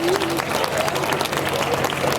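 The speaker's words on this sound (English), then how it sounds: "So give yourselves a round of applause for what you earned." Crowd applause at a dragon boat regatta closing ceremony, thick continuous clapping from many people with some cheering voices mixed in, loud and steady across the whole stretch.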